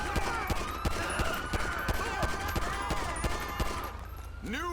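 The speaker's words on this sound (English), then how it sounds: "I'm in a freaking shootout, bro." Rapid gunfire crackles through a GTA V police shootout in the Grand Senora Desert, with dense repeated shots and bursts filling the whole stretch at close range.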